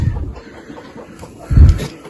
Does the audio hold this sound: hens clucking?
yes